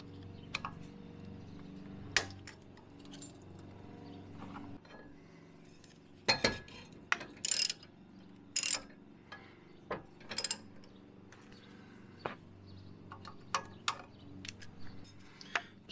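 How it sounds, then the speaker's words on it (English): Metal cap being pried and pulled off a U-joint on a drive shaft held in a vise, a scatter of sharp clinks and ticks with scraping in between over a quiet background hum. "We pull the cap off."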